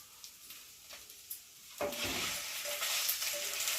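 Cut ginger pieces hit hot oil in a pan partway through, a quiet hiss suddenly swelling into a loud, steady close sizzle that carries on to the end, with no talking.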